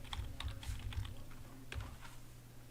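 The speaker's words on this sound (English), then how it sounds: "I'm going to type in a datum / administrator" Quick bursts of keystrokes on a computer keyboard as a domain administrator username is entered, light close clicks in short uneven runs with brief pauses, no talking.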